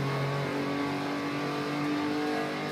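Porsche 911 race car lapping the Nürburgring, its engine a loud, steady, sustained drone heard from on board as it crests a hill, with no talk over it.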